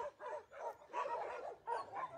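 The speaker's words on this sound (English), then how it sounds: "I hear the puppy, the crying of a puppy from the balcony there" A small abandoned puppy near an animal shelter whimpers and yips in short repeated cries, several bursts in quick succession, faint and outdoors with no talking.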